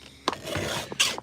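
A file rasping across a chainsaw chain to sharpen it, giving two or three quick, close scraping strokes.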